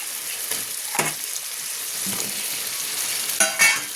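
Vegetables fry in an oily pan with a constant hiss, while spoon scrapes and clatters sound every second or so and a louder pair of stirs comes near the end.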